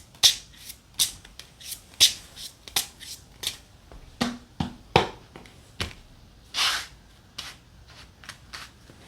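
Tarot cards are shuffled and drawn by hand in a quiet room: a series of crisp, close slaps and flicks, each one separate, in an uneven rhythm of about two per second, with no voices.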